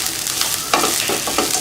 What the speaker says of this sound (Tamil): ஒரே 1 நிமிஷம் வதக்கினா போதும்